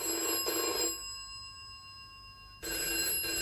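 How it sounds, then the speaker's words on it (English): A telephone rings indoors in a flat with two clear, buzzy electronic bursts separated by a pause of about a second and a half, moderately loud, with no voices. "All right, Mark, I'll answer it."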